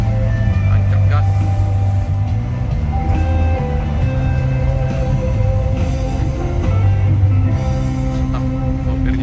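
Adhi Prima bus engine droning as it accelerates across the Musi 2 bridge, a steady low rumble heard from inside the cabin with a voice speaking over it.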